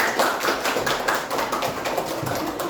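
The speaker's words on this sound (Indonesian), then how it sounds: "untuk kelompok Jawa kita berikan tepuk tangan ya" Classmates applaud a student group after its presentation in a classroom lesson, a close, continuous patter of many hands clapping at an even level and with no talking.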